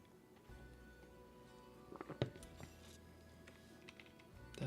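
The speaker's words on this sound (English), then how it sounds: "I know some people like programming streams when you hear the keyboard." Computer keyboard typing during a programming stream, a few scattered soft key clicks and one louder clack, faint and close under a low background hum.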